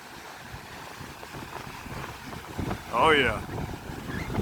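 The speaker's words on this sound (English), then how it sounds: "I hope you can hear me because it's windy" Gusty wind on a beach buffets the microphone in a steady rush, with a brief spoken exclamation partway through.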